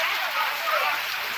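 Steady rain falls at a home, making a dense, even hiss that fills the short stretch without a break.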